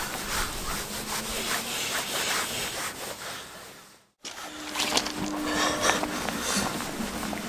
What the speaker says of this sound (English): Now I've just done the first go, one squeeze, rubbed onto half of this lens, headlight lens